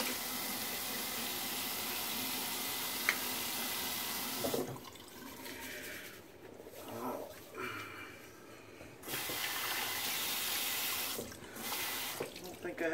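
Tap water runs steadily into a sink for a rinse after a wet shave, with brief breaks and splashes where the flow is interrupted, close and continuous with no talk.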